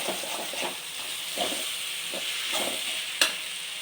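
Ginger garlic paste sizzling and frying in a pan while making pasta, a steady hiss with soft periodic stirring scrapes and one sharper clink near the end.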